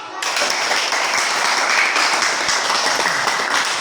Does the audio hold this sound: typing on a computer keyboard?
no